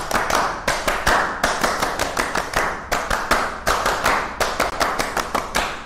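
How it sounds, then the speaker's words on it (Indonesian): Indonesian scout-style rhythmic clapping (tepuk pramuka) at a high school scouting activity, a group clapping in a fast patterned rhythm of repeated bursts and pauses, loud and close, with no talking. "Baik, mari kita tepuk pramuka 2 kali."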